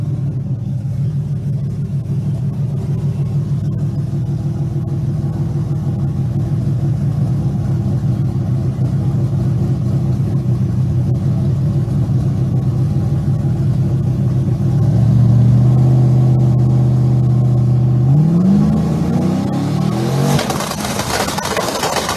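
Drag race cars in a 28-inch tire class at a street car event, a loud sustained engine rumble that swells into a hard rev and accelerating roar near the end, with no talking.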